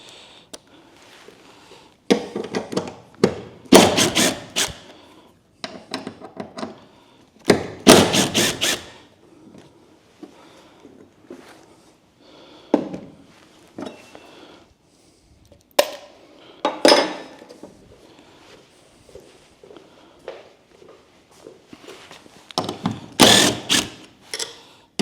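Power driver backing tech screws out of hinges, short bursts of whirring and ratcheting with clicks and pauses between, close and fairly loud, with no talk.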